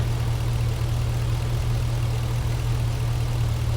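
A vehicle engine idles steadily in park during transmission work, with a low constant rumble and hum that stays level and close throughout, no voices over it.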